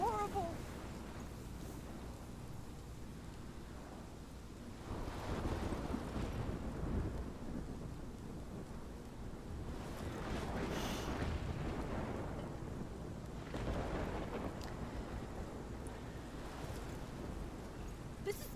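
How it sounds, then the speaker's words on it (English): A storm in the video game Life is Strange sweeps through with gusting wind, rain and low rolling thunder that swells and fades in several waves, loud and continuous, with no clear talk over it. "This is my storm."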